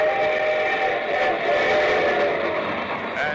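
Train sound effect with a whistle: a sustained steady tone over a rolling rumble, loud and continuous throughout.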